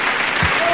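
A brief burst of applause comes from the audience of a televised debate, a short, close wash of clapping under a faint voice.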